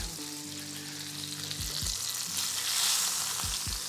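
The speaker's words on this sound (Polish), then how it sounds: "dołożyłem do patelni, więc one będą nam się tutaj smażyły" Breaded pork cutlets frying in hot fat in a pan, a loud, steady close sizzle with occasional low knocks and scrapes as they are moved, no speech.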